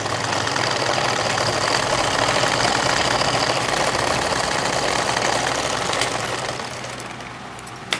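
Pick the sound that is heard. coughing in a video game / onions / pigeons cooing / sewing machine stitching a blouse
sewing machine stitching a blouse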